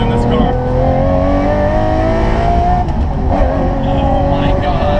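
A Lamborghini engine revs hard and very loud, a steady roaring drone with rising pitch held throughout the clip, close by.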